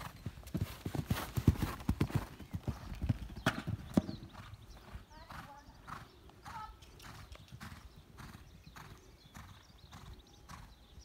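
A horse canters in a riding lesson with rhythmic hoofbeats thudding on the ground, heavy and busy at first, then lighter and evenly spaced, recorded from a distance with soft background noise.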